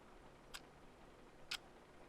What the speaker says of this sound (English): The gentle ticking of a clock is the most beautiful sound.